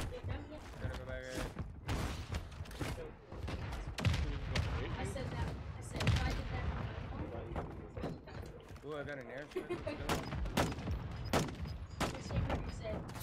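Dense, repeated gunfire crackles through a squad firefight on a rooftop-dotted map in a military shooter, shots and thuds overlapping steadily for the whole stretch while players talk over it.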